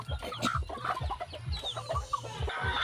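Chickens cluck nearby in a steady, busy run of short low calls, with some higher squawks and rustling mixed in.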